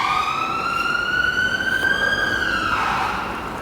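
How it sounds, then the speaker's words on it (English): An ambulance siren wails through a residential estate, one long tone sliding slowly upward and then dropping away, clear and sustained against a steady background, with no talking. "Interesting sirens in the back. I think that's an ambulance."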